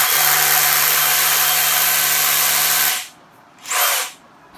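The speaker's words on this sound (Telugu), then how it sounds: "అయిపోయింది డ్రిల్ తోటి పని." Power drill boring a hole while mounting a CCTV camera, a loud steady whine for about three seconds, then a short second burst after a pause.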